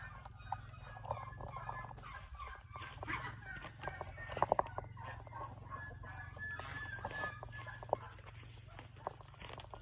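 Hens clucking and murmuring nearby in an outdoor yard, with a few sharper squawks around the middle and steady background hum.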